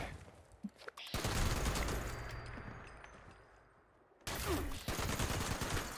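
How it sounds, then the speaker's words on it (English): Gunfire in a shootout in the Fallout 76 video game, with dense bursts of rapid shots in two loud stretches around a quieter lull, close and harsh, with no speech. "You know you're in trouble when you're having a shootout with someone"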